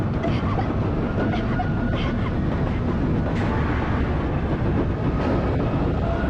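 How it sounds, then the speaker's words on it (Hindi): A train runs steadily along the rails in a loud, continuous rumble with dense low-end roar and faint rattling, dramatic movie-scene sound with no pauses. "मैं इस ट्रेन को रोकूंगा।"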